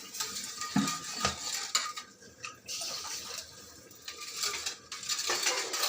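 Spoon or ladle scraping and clinking against a metal pot while ground sesame and peanut powder is mixed into Telangana-style pachi pulusu, a steady run of close, irregular stirring clatter with no speech.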